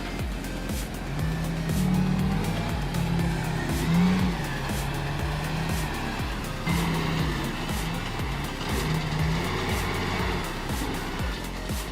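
A heavily loaded logging truck's engine labours steadily on an uphill climb, a loud continuous drone with gear strain and tyre noise, no voices present.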